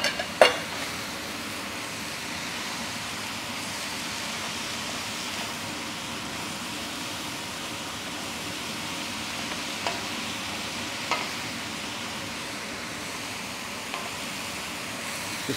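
Peas tip into a pan of onion and mushroom sauce for ricotta agnolotti, sending up a soft, steady sizzle for several seconds, with a few faint clicks of a spoon stirring now and then.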